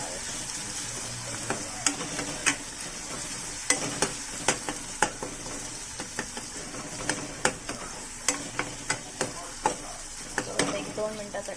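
Ginger garlic paste fries in hot oil for a restaurant-style mushroom curry, a steady close sizzle punctuated by regular sharp clicks of a spoon stirring against the pan.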